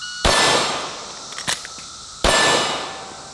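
Pistol shots from a Glock ring off steel targets, two loud cracks with long metallic clangs a second or two apart, a brief clatter of a reload between them.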